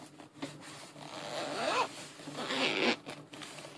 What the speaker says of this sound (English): it's not difficult to pull the zip at all